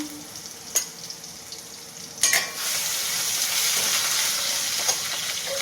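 Garlic-chili paste, red chili and curry leaves sizzle in hot oil while cooking a moong curry, a few sharp spits giving way to a loud, steady frying hiss that runs to the end.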